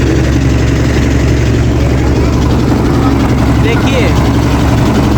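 Motor boat engine drones steadily and loudly throughout a boat ride from Assi Ghat toward Manikarnika Ghat in Banaras, with a voice talking over the constant engine noise.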